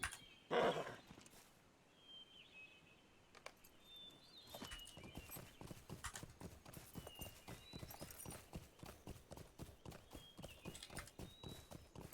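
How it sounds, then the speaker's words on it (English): Horses in Lord of the Rings Online, a rapid, steady clip-clop of hooves growing into a continuous rhythmic trot, with a brief snort near the start and faint game tones over it. "Horses!"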